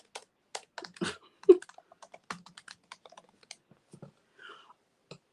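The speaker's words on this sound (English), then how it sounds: "Can y'all hear me typing?" Someone types on a computer keyboard, a close run of sharp, irregular key clicks with short pauses between bursts.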